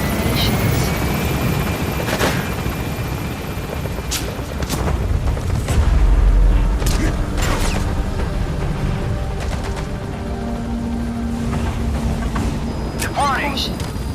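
A helicopter in the video game Metal Gear Solid V thrums with steady rotor noise through a sandstorm mission departure, mixed with booms, radio voices and cinematic sound effects.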